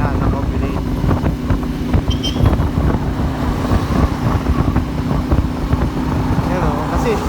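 A CFMOTO 450MT motorcycle engine revs high while riding across the Panguil Bay Bridge, with a steady engine drone and wind rush running throughout, loud and close, as people talk over it.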